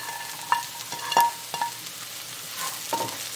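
Onions fry in oil in a pot for a Creole gram bouille, giving a soft steady sizzle with a few sharper clinks and stirring scrapes scattered through, fairly quiet and close, with no voices.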